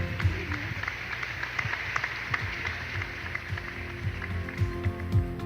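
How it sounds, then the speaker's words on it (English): Audience applause for small-business awardees at a national MSME summit in the Philippines, a steady dense wash of clapping from a crowd in a large hall with a few louder bursts. "A round of applause, please, for the MSME Ascenso awardees."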